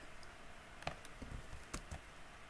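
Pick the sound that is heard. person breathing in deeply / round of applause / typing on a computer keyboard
typing on a computer keyboard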